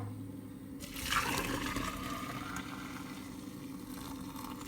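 Hot boiled liquid poured and strained past a spoon, a soft gushing pour that swells and then trickles steadily, faint against a low background hum.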